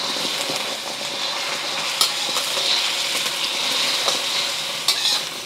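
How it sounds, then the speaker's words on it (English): Egg frying in a well-heated stainless steel pan with oil, a steady loud sizzle and crackle throughout, close up, with a few brief spatula scrapes. "You want to cook your egg until it's just mostly cooked."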